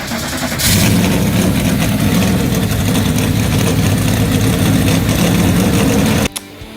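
Racing engines fire up and hold a loud, steady idle close by, with a sharp start after a brief lead-in, running evenly until cutting off abruptly near the end.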